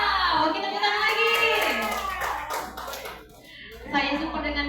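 A group claps along with the 'tepuk wow' clap chant at a primary school session, with voices chanting in rhythm over steady hand claps that fade midway and then return strongly.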